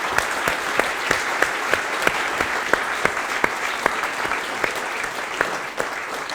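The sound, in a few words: audience applause for Antoine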